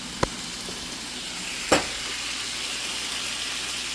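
Chickpeas fry in a pan with a soft, steady sizzle throughout, broken by two brief sharp clicks of a utensil.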